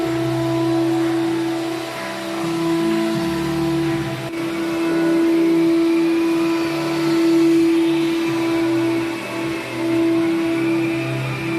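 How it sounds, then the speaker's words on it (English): Vacuum cleaner sucking up sanding dust from a freshly sanded parquet hardwood floor; a loud, steady motor drone with a strong whine, close and continuous, shifting slightly as the nozzle moves, with no talking. "Now we shall vacuum the dust and prepare to do an undercoat with bonshure E3."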